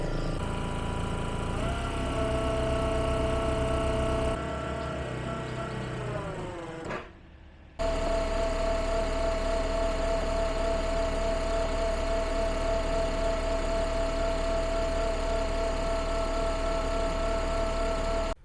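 Digger engine idling with a steady mechanical drone, then revving up through a rising whine that cuts out briefly before running on loud and constant at higher revs, with a sustained tonal hum.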